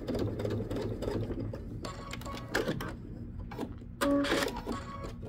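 A sewing machine bastes a wristlet seam closed in quick mechanical bursts, stopping and starting a few times, close and clear with no talk.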